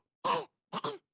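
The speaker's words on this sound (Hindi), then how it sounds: "खांसी हो रही है आपको?" A single person gives two short coughs, the second one double and rough, close up with silence around them.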